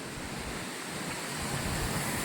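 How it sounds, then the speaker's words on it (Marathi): Domzira waterfall at Jawhar pours as a dense, continuous roar of rushing water, steady and fairly loud throughout with a faint wind-like hiss and no voices. "हा इथे समोर बघा धबधबा असा"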